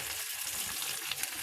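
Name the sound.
chopped onion frying in pan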